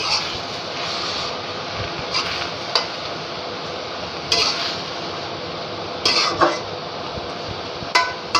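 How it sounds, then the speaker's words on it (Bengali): Red leafy greens (shak) fry in a pan. A bright, steady hiss runs under repeated sharp clacks and scrapes of a utensil against the pan, close and fairly loud, with no voices. "শাকটা ফ্রাই হয়ে আসছে,"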